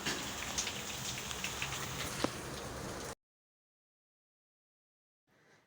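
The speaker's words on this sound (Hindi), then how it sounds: "रात के अंदर जो है वो बहुत ज़्यादा तेज़ बारिश स्टार्ट हुई है" Heavy night-time rain pours down in a dense, steady hiss for about three seconds, then cuts to silence before faint noise returns briefly.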